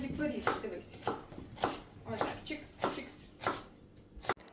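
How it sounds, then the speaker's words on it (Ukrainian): A knife chops onions on a board in steady strokes, about eight crisp cuts at an even rhythm, close and clear. "Я нарізала дві цибулини"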